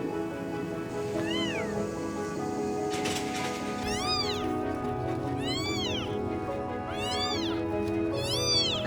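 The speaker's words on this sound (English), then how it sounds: "It's like a 2-week-old kitten." A two-week-old stray kitten meows repeatedly in high, rising-and-falling cries, about five distinct calls spaced a second or so apart, fairly close, over a steady background hum with faint voices.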